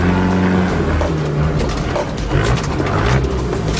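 A 4x4 engine revs hard and steadily as the truck strains to climb a rock ledge at night, a loud, close, continuous drone with some rough wavering.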